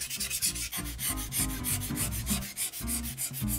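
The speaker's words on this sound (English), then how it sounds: "Now we take our sandpaper, just give it a little run around here" Sandpaper rubbed around the ceramic rim of a Big Green Egg grill to strip off the old gasket, a close, rhythmic scratching in repeated strokes, steady and fairly quiet.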